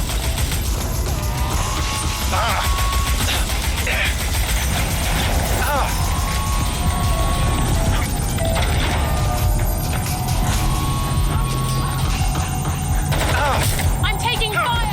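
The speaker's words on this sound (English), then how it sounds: "I'm taking fire!" Sustained gunfire crackles in Watch Dogs: Legion, bursts of shots and mechanical clatter repeating loudly over a dense combat mix, with voices talking beneath it.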